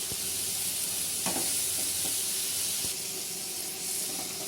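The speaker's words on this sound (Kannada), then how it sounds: "ಬೆಳ್ಳುಳ್ಳಿಯನ್ನು ಮಿಕ್ಸ್ ಮಾಡಿ ಆನಿಯನ್ನ ಹಾಕಿ ಫ್ರೈ ಮಾಡ್ಕೊಳ್ಳಿ" Onion and garlic frying in a pan for a tomato gravy give a steady, close sizzle and hiss, with a few soft stirring knocks and scrapes throughout.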